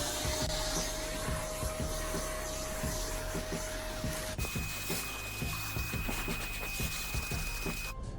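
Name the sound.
vacuum cleaner hoovering car carpet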